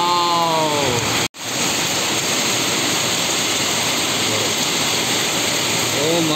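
Hailstones pelt down during a hailstorm in Hyderabad, a dense, steady roar of impacts with a brief dropout partway. A voice speaks at the start and end over the hail.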